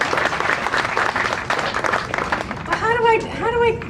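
Audience applause welcomes a speaker to the stage, a dense, steady wash of many hands clapping throughout, with a voice starting to talk over it near the end.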